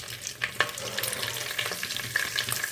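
Bay leaves, cinnamon and cardamom crackle and sizzle in hot oil for a Bengali fish-head curry. The frying hiss runs steadily with a few sharp pops, close and moderately loud, and no one speaks.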